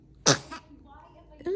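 A three-week-old baby gives one sharp, close sneeze, followed by a soft breathy tail and quiet, with an adult voice starting just after.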